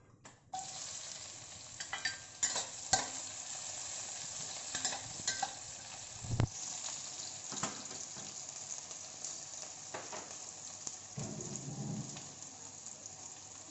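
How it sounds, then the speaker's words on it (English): Spices and onion hit hot oil for Malaysian curry chicken rice, a sudden burst of crackling sizzle that settles into a dense, steady fry with occasional spoon scrapes and a heavier rumble near the end. "the oil is hot now. I will add in all the spices. And then I will add in the onion."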